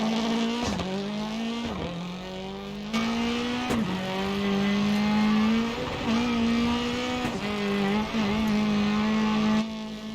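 A rally car engine in a racing video game roars continuously, its pitch dipping sharply with each gear change and braking, then climbing again, loud and close with no talking.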